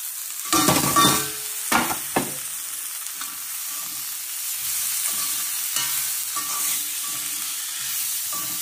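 Onion and bitter gourd roasting in a pan on a low gas flame, a steady soft sizzle with a few sharp spatula scrapes and clinks early on, then continuous gentle frying.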